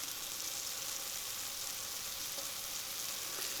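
Turkey sausage links frying in a pan, a steady soft sizzle with a continuous crackling hiss throughout, no talking.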